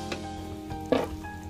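Dried pollock pancakes frying in a hot pan give off a steady, soft sizzle with a few small crackles and a light scrape partway through, heard close up without any talking.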